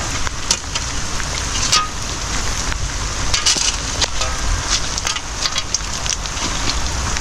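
Steady rain falls on a farm during Typhoon Carina, a dense, continuous hiss with scattered sharper drops and crackles, fairly loud and close throughout with no talking.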